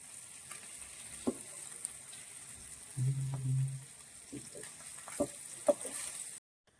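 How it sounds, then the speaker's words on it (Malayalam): Fish shallow-frying in a pan for a traditional Kerala chuda pollichathu, a steady faint sizzle running through with a few sharp clicks and a brief louder hiss of stirring near the middle. "വലിയതായിട്ട് നമ്മൾ ഫ്രൈ ചെയ്തിട്ടില്ല, ഒരു ഷാലോ ഫ്രൈ."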